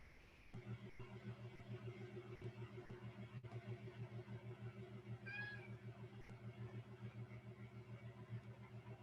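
A cat indoors meows to be let out, one short rising cry near the middle, over a steady droning engine-like hum that runs throughout the clip.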